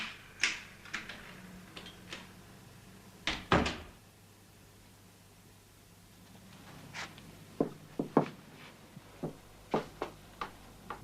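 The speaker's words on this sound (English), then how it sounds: "Right credit card opens so many doors." A door is worked open with a credit card: scattered small clicks and taps, a heavier thunk partway through, then more sharp clicks and knocks in a quiet room.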